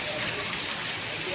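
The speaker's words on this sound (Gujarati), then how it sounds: "ફૂલ વરસાદ પડ્યો મિત્રો જોરદાર" Heavy downpour in Gujarat, a steady broadband wash of rain that stays loud and constant throughout, with no clear pauses or separate drops.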